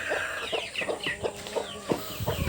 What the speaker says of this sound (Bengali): এই যে মুরগিগুলো নামতেছে আর এই জায়গায় ডিম পারতেছে